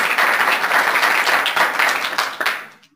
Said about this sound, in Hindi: इसके लिए जोरदार तालियां बजाएं